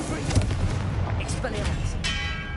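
The Incendio fire spell cast in Hogwarts Legacy bursts as a loud rumbling, crackling blast of combat effects with layered impacts, dense and continuous, with a voice speaking over it.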